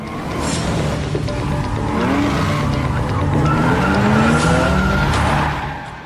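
Cars in an illegal street race scream past with loud, sustained tire skids and squeals over roaring engines. The squeals bend in pitch as the cars slide through, close and continuous until a brief fade at the end.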